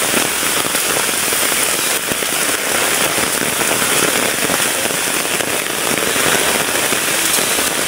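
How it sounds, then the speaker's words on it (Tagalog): Heavy rain drums densely and continuously on an umbrella on a mountain trail, a loud, even crackling patter with no voices. "kita nyo naman, lakas na ng ulan"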